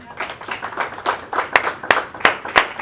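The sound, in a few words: applause for Christ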